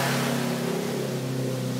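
A petrol Toyota pickup loaded with five people in its bed drives through mud, its engine a steady loud droning hum held near throughout, no speech.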